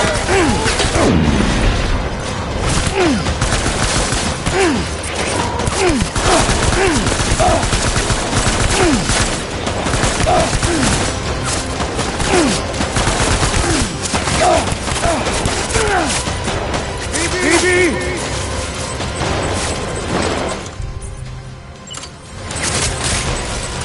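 Rapid bursts of gunfire from the video game Death Stranding rattle loudly and continuously, with booms and crashing impacts layered over a dense battle din.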